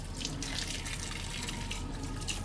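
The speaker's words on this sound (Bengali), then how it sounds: "এখন সব ফলমূল ধুয়ে নিচ্ছি।" Fruit is washed under a running tap at home, a steady close rush of water with light splashing and dripping, continuous throughout with no talking.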